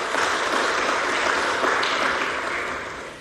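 Applause from the audience at a stock trading opening ceremony, a dense wash of clapping that holds steady and then gradually fades toward the end, with no voices over it.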